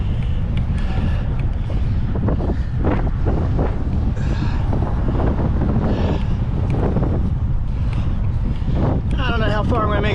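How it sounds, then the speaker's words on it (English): Strong wind on a beach ride, a loud continuous roar buffeting the microphone throughout, with a voice faintly audible beneath the gusts. "I don't know how far I'm gonna make it today with this wind"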